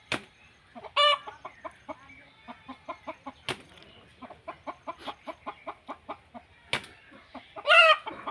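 A hen clucks in a steady run of short, rhythmic pulses, close and clear, broken by a few loud squawking bursts and sharp rustles.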